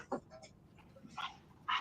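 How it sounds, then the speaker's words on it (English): A dog wanting to go out whimpers and yips in short high whines, faint and intermittent, with a few brief cries spread across the moment. "Someone's dog has to go out."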